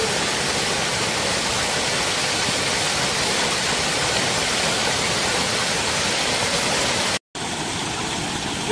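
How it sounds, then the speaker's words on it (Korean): A waterfall at Bonggwang valley in Jeonnam roars as a loud, unbroken rush of water heard close up, with one brief dropout near the end. "봉광계곡 폭포 최고의 폭포 가고 싶다"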